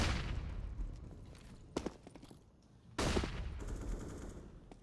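Gunfire in a CS:GO match on the Nuke map rings out as a few sharp shots followed by two longer bursts of rapid fire, fairly distant and moderately quiet, with no talk over them.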